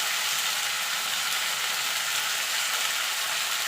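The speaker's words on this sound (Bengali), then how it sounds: "আলু, সজনার ডাঁটা, টমেটোটা মিনিট খানেক আমি একটুখানি নাড়াচাড়া করে নেব।" Potato, drumstick and tomato pieces fry in a pan while being stirred, giving an even, broadband sizzling hiss that holds steady throughout, close and alone without talk.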